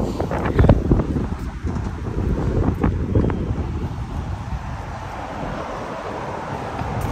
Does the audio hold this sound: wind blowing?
yes